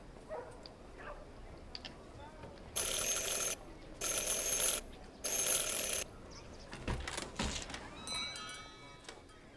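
A bell rung three times in Syberia The World Before, three bright, evenly spaced, sustained rings, fairly loud, followed by softer clattering sounds.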